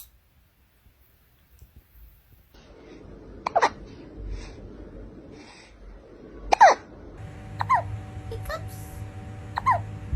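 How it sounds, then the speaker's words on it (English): A cat hiccups indoors, four short sharp squeaky hics spaced a second or more apart, close and clear over a low background hum, with a person speaking softly. "Do you have the hiccups?"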